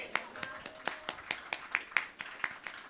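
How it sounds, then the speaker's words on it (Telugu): Audience clapping at a sermon: a run of about a dozen sharp, evenly spaced claps in a steady rhythm, fairly close and distinct, with faint talk beneath. "గట్టిగా చప్పట్లు కొట్టాలా?"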